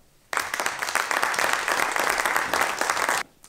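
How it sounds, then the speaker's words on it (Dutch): A live studio audience at a Dutch talk show bursts into applause for a guest, a dense, steady clapping that starts abruptly, holds for about three seconds and then cuts off. "graag uw aandacht en applaus voor anesthesioloog bij het Antonius Ziekenhuis, Hinke de Lauw."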